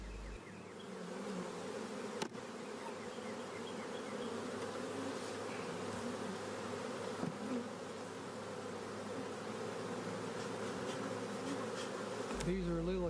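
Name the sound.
honey bees buzzing around hive frames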